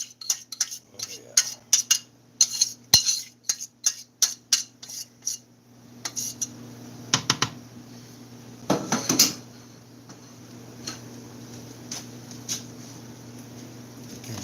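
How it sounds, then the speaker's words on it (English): A utensil stirs potatoes and cheese for bacon and cheddar au gratin in a dish, with a quick run of sharp clinks and scrapes against the dish, then slower, softer scraping and a few knocks. "Get all them potatoes mixed up in that cheese."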